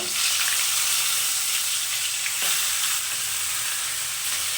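Fish heads fry in hot mustard oil with a steady, dense sizzle and crackle that fills the whole stretch at even loudness, close up, with no voices.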